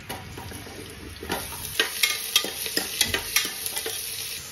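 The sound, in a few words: chopped onions frying in hot oil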